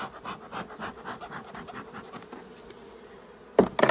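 Honeybees buzz in an open resource hive during a beekeeping inspection, a continuous pulsing drone close by, with a sudden louder burst near the end.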